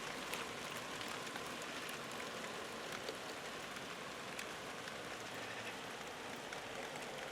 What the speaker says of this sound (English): it makes a pleasant change to hear the sound of rain anyway